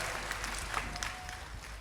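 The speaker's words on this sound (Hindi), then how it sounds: "ताली बजाओ, अभिनंदन करो" An audience at a religious discourse gathering in Raipur claps together, a quiet, steady patter of applause with faint crowd murmur throughout.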